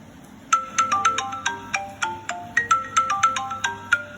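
Mobile phone wrapped in sheets of A4 paper ringing with a bright electronic ringtone, a quick repeating run of melodic beeps heard clearly at moderate volume, with no one speaking.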